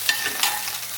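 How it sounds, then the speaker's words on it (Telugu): Okra sizzles in a hot Amway pan as it is stirred, a steady bright frying hiss with a couple of soft scraping stir sounds, close and with no voices. "ఇప్పుడు బెండకాయలు వేస్తున్నాము."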